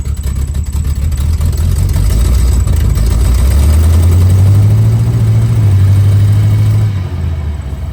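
A rebuilt Turbo 350 transmission sits behind the loud, close engine of a square body truck, which idles roughly, then rises in pitch as it revs up, holds a higher note for a few seconds, and settles back down.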